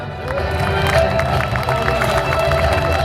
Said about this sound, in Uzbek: Davomli qarsaklar